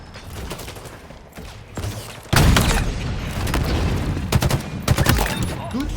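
Rapid gunfire bursts from the video game Halo Infinite, a loud sustained barrage with sharp shots and booms, starting quiet then erupting into near continuous firing, with faint in-game voice lines.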